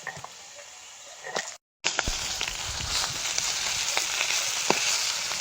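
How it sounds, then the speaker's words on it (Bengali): Fish lightly frying in hot oil in a kitchen pan, a loud, steady close sizzle with crackling pops, briefly cut off near the start and then resuming at full strength. "মাছ একদম হালকা করে ভেজেছি"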